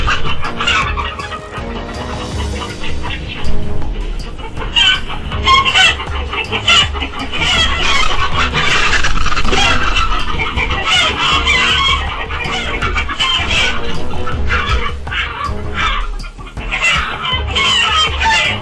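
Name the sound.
chickens clucking on a farm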